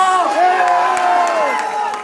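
Crowd at a convocation ceremony clapping and cheering loudly for about two seconds, with whoops and a sustained voice or tone riding over the applause.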